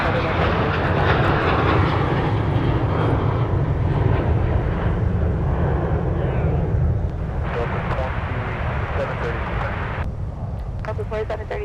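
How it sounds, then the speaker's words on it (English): A United airliner takes off from Minneapolis bound for Chicago, its engines giving a broad, sustained roar that stays loud throughout, with radio voices heard over the rumble. "here is United getting airborne for Chicago"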